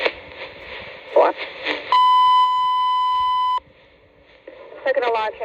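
An FDNY dispatch alarm tone for a second alarm sounds as one long, loud, steady electronic tone over radio, with radio voices just before and after it.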